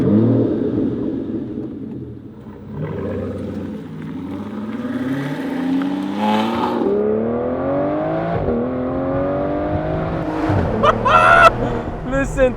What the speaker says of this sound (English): its 6-liter V12 engine designated as AM11